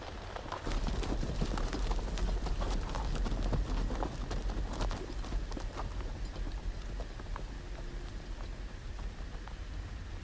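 Hoofbeats of a horse in the Game of Thrones video game clatter in a quick, rough rhythm, loud at first, then thinning out and growing fainter as the animal gallops away over a noisy background.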